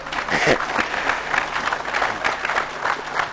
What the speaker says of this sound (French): j'espérais que vous applaudirez pour ceux qui ont accepté